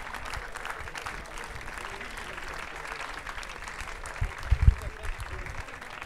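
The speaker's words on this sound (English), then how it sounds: "Please give all these athletes a round of applause." Spectators applauding rowing athletes at a world university rowing championship final, steady moderate clapping from an outdoor crowd with a few louder low thumps, while an announcer speaks over it.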